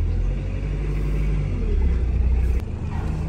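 A car engine idles with a low, steady rumble as the car turns around, with a brief thump and a slight drop in level near the end.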